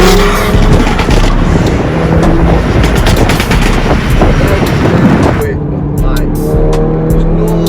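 A stage 3 Audi S1 Quattro with a bigger turbo, about 400bhp, roars as it accelerates hard, loud and close from inside the car, with gear changes and a passenger talking over the engine.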